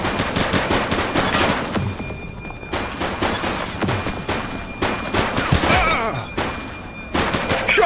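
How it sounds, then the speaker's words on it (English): Heavy gunfire in a shootout in the video game The Precinct: rapid overlapping shots and bursts that continue almost without a break, loud and close, with thuds mixed in. "Shots fired!"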